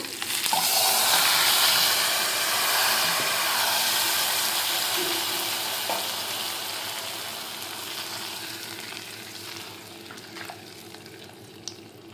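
Lentils and tomato simmer in a pan with a steady, fairly loud sizzling hiss that slowly softens over several seconds, broken by a few faint clinks.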